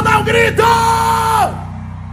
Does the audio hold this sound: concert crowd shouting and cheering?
yes